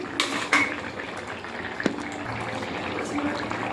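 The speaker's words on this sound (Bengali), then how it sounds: "ঝোলটা ফুটে গেছে, এবারে ভেজে রাখা মাছগুলো দিয়ে দেব।" Fish curry gravy, a Bengali fish jhal with taro and potatoes, bubbles softly in a pot, with a few clinks of utensils against metal over the steady simmer.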